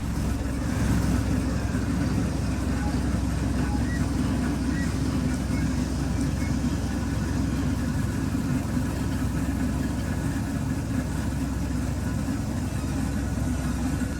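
A tractor-driven brick making machine at a brick kiln in Sultanpur, powered by a 55 HP tractor, runs with a steady, loud low mechanical rumble and engine drone that holds without a break.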